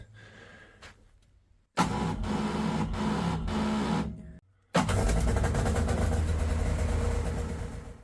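An Arctic Cat ZR858 Catalyst snowmobile, a 2025 model, cranks in 14-below cold, stutters and cuts out, then catches and settles into a loud, steady idle close by.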